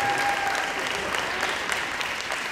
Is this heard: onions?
no